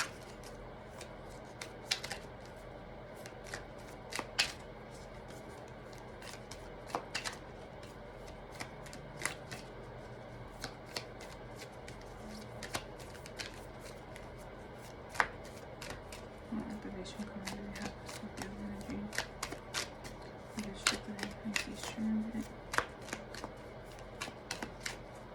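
Tarot cards are shuffled by hand at close range: quiet, crisp riffling and flicking with scattered sharp card snaps over about 25 seconds, with a soft voice faintly present underneath.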